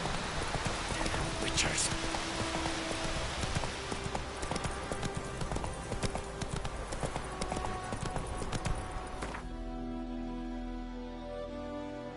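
The horse Roach trots through The Witcher 3: Wild Hunt on PS4, giving a steady, close clip-clop of hooves under a voice. The hoofbeats stop abruptly near the end.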